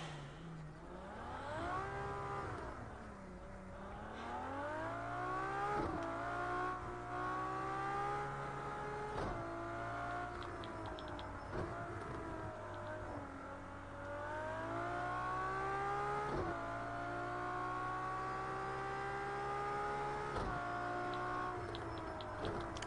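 Racing engine of a 2015 Ferrari in Project CARS 2, a steady whining drone that climbs and drops through repeated gear shifts and revs, moderately quiet with no voices over it.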